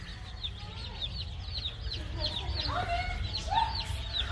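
Pekin ducks in an American store quack and call in short bursts over a low steady rumble, with a few sharper, higher squawks toward the end.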